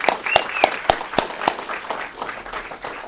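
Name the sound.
applause at a city council meeting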